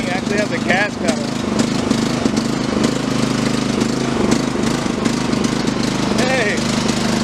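A Troy-Bilt riding lawn mower's small engine drones steadily and close by as the mower is driven around, with a continuous mid-pitched hum and rattle and voices talking over it at times.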